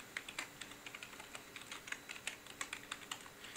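Someone types a password on a computer keyboard: a quick, irregular run of light key clicks, close and fairly quiet, with no talking.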